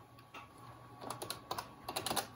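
Keys clacking on the keyboard of an ESCOM Graymate 486 notebook computer, first a single press and then a quick irregular run of crisp, close taps in a quiet room.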